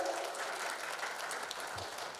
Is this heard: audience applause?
yes